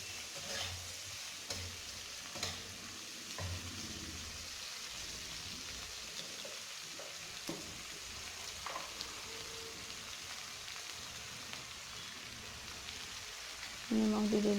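Brinjal fries in oil in a wok with a soft continuous sizzle, broken by occasional scraping and clinks of stirring, fairly quiet and close, ending in a louder clatter.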